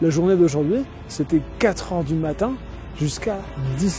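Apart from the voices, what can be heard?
No everyday noises stand out.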